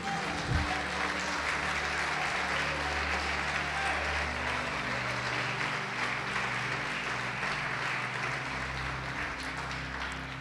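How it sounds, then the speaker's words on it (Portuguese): A church congregation applauding in a house of worship, a steady wash of clapping that holds level for the whole stretch, with faint voices and low tonal sounds underneath. "Você pode aplaudi-lo e glorificá-lo?"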